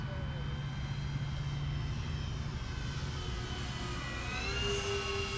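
A Dynam P-61 Black Widow electric RC warbird, 1500mm span on 4S power, flies in to land with a steady, moderately distant motor whine and drone that holds throughout, with faint voices around it.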